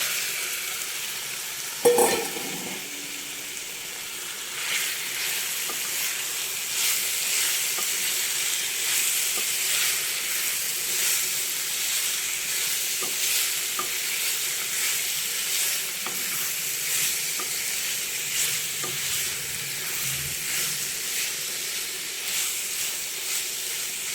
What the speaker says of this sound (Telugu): ఇప్పుడు మనం మ్యారినేషన్ చేసి పెట్టుకున్న ప్రాన్స్ వేసేసుకున్నాం